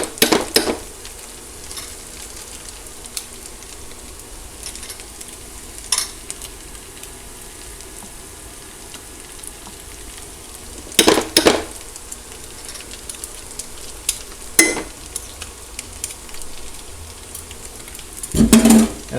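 Gochujang and doenjang paste fries with chicken in a pan for mapo tofu, a steady close sizzle under occasional sharp scrapes and clacks of a utensil stirring against the pan.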